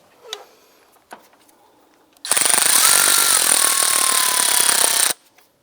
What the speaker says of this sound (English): Let's go ahead and tighten down this hose clamp.